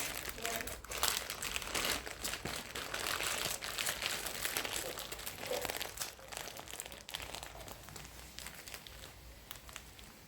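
A plastic bag crinkles and crunches continuously while tape is handled and pressed down to close it, close up, with faint voices in the background.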